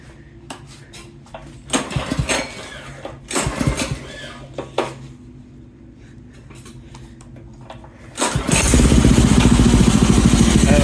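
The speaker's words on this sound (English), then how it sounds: "now I'm going to start up the engine and see if it works how it's supposed to." Several clattering pull-start attempts sound before a small go-kart engine catches near the end and runs with a loud, steady buzzing roar.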